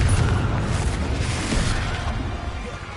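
Spell blasts going off in Hogwarts Legacy on PS4, a continuous run of loud booming explosions and bursts with rumbling low end, heavy throughout and easing slightly toward the end, with no voices.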